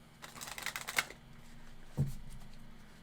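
A tarot deck gets shuffled in a quick riffle of crisp card flutters, then a single soft tap as the cards settle, close and fairly quiet with no talking.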